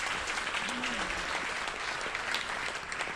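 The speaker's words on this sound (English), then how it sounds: "Another round of applause for Jim" Steady, dense audience applause at a meeting, clapping filling the whole stretch with even loudness and a brief voice rising over it.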